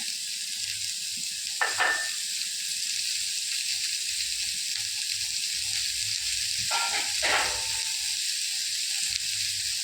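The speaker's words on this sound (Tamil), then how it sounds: "நல்ல கேரட் வதங்கட்டும் நல்ல கேரட் வதங்கிடுச்சு எண்ணெயில்" Carrots sauté in oil in a pan on the stove, giving a soft continuous sizzle and hiss with two brief scraping stirs.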